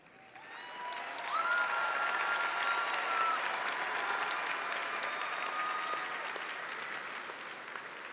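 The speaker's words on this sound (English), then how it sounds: "Allow for us to clap for you, and then be seated." An audience at a 2022 high school graduation ceremony claps for standing students, applause swelling in after a quiet start and holding steady in a large hall, with faint speech-like tones underneath.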